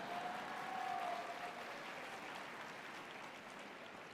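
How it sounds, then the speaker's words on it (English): An audience claps at a national public forum debate final round, giving a continuous, even wash of applause that sounds faint and somewhat distant. "can you guys clap again?"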